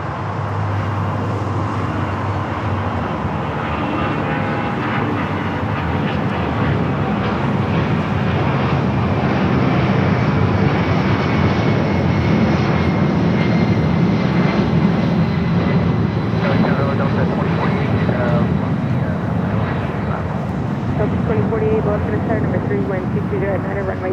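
An American Airlines Boeing 787-9 Dreamliner arriving from Tokyo Haneda at Los Angeles airport gives a loud, continuous jet roar that swells gradually and stays sustained, while someone talks throughout.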